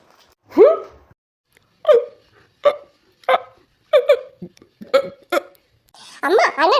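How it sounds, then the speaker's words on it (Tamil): Hiccups in a Tamil comedy skit about a mother-in-law and daughter-in-law, heard as a string of sharp, separate vocal bursts about a second apart, loud and close, with a longer noisy sound at the end. "யாரும் நினைக்கிறாங்க போல விக்கல் வருது பாருங்க"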